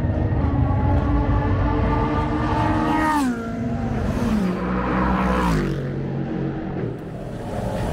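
An LMP prototype race car's engine at a racing track, a loud, steady high-pitched whine that drops in pitch through a couple of downshifts or as it passes, with no talk over it.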